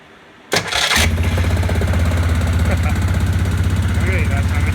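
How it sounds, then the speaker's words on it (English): A Yamaha Grizzly 600 ATV with a clunking starter cranks in a brief, harsh burst, then the engine catches and settles into a loud, steady idle close by. "So when I start it, it gets a clunk. It will start though, but it clunks a bit."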